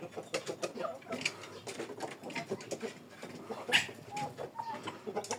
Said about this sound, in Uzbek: Jo'jalar yeyishyapti mana.